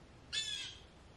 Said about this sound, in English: That bird was straight up talking back.